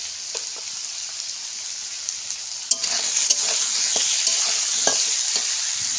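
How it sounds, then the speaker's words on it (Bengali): Potatoes frying in a pan with salt and turmeric give a steady close sizzle, with a sharper burst of crackle and scattered stirring clicks as the spoon moves through. "একটু ভালো করে ভেজে নেব"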